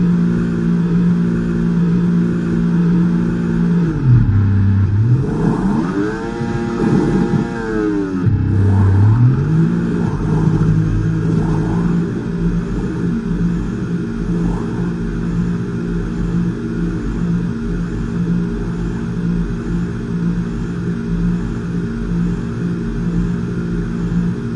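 In the F1 24 video game, a Formula 1 car accelerates out of the pits at Silverstone, engine pitch dropping and rising through quick upshifts before settling into a loud, steady high-revving drone.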